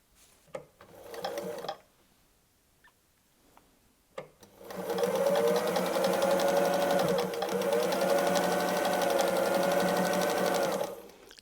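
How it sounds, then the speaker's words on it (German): A sewing machine runs steadily for about seven seconds while free-motion quilting a fabric pot holder, the motor whirring close and continuous after a few brief taps and short bursts. "Näht ruhig über eure schon genähte Linie und dreht euren Stoff nach Herzenslust einfach, ohne nachzudenken, unter der Maschine."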